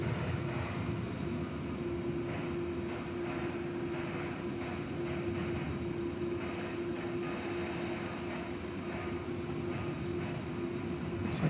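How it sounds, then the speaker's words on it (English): A UPS cargo plane taking off from the east side of DFW Airport at night, a steady distant jet engine roar and rumble holding constant throughout with a low droning tone, no talking. "Like another UPS plane just took off from the east side."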